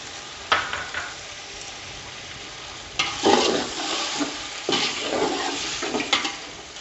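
Around 2 kg of beef pieces, fried a few minutes in a pot and now mixed with a cup of yogurt for beef pulao, sizzle steadily up close while a spoon scrapes and stirs in several bursts, with no talking.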